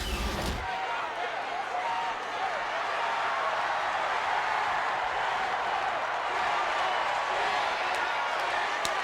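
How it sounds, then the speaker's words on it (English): Dense wrestling arena crowd at the Norfolk Scope Arena, a steady loud roar of cheering and shouting that fills the whole span without letting up. "this tremendous crowd here in Norfolk Scope Arena, in full agreement with Jim Cornette, they said, let him go"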